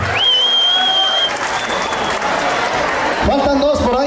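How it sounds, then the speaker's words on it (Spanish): Crowd applauding loudly at a celebration for San Nicolás de Tolentino, a continuous roar of clapping with a whistle, cheering voices and an announcer speaking over it near the end. "Fuerte el aplauso, por favor."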